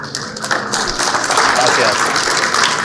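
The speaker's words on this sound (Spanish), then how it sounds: "Un aplauso por Ricardo." Audience applause for Ricardo at a talk, a dense, sustained wash of clapping that swells after the start, with voices mixed in underneath.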